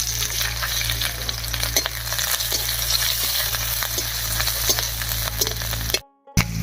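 Crushed garlic cloves and slit green chilies sizzle loudly in hot mustard oil, a dense close crackle with stirring scrapes, cutting off abruptly near the end.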